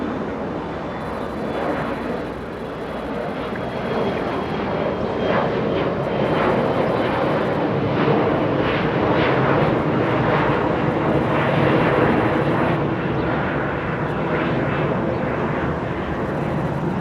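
A jet airliner departs from Los Angeles International Airport, its engine roar loud and sustained, swelling slightly and holding as a broad, continuous rumble for the whole stretch, with no voices.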